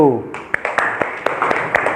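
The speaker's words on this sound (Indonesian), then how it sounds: "kasih tepuk tangan untuk kelompok 1" Classroom audience clapping for a student group after their presentation, a few distinct sharp claps standing out over steady background murmur and room noise.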